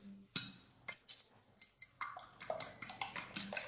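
Eggs with salt and pepper being mixed in a bowl, a quiet series of quick clinking taps of utensil against the bowl, irregular at first then faster and steadier, close up with no speech.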